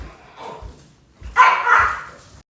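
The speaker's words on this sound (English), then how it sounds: "Let me let this little dog out." A small dog barks indoors in a few sharp bursts, with one loud yelping cluster near the end, heard up close and alone.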